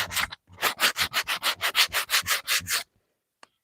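A block wrapped in 80 grit sandpaper is rubbed by hand over a wooden piece in about a dozen quick, rhythmic back-and-forth strokes. The rasping is close and loud, followed by a tap and then silence.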